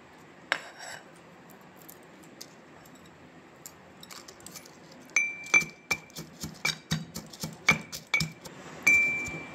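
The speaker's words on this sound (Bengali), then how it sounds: "ভাজা মশলাগুলো আমি হেমানদিস্তিতে গুঁড়ো করে নিয়েছি" Roasted spices are pounded in a small metal mortar and pestle, with faint scattered taps at first, then a run of sharp, ringing metallic strikes at an uneven rhythm, close and fairly loud.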